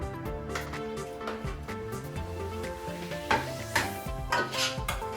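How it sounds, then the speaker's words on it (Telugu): Curry leaves and green chillies fry in a pan, a soft sizzle under steady background music, with occasional utensil clinks and stirring scrapes toward the end. "సో కరివేపాకు వేసుకొని ఫ్రై చేసుకోండి"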